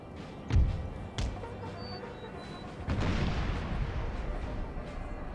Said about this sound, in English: Cannons open fire